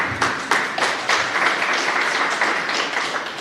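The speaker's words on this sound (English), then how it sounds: "You can clap for that" Audience applause at a community event with elected officials discussing COVID-19 impact in Flushing, heard as a moderately loud spread of irregular claps lasting a few seconds with no talk over it.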